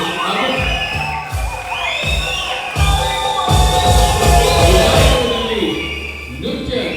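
Audience at a staged story-drama event presented by Mandovi Motors cheers and shouts over a steady roar of clapping, with children's yells mixed in; the crowd noise swells in waves and stays loud throughout.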